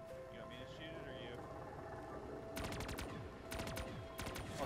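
Bursts of rapid gunfire in Black Ops 3 Zombies crackle over a steady game soundscape, one volley starting partway through and a second following shortly after, with music-like tones running beneath.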